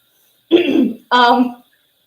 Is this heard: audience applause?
no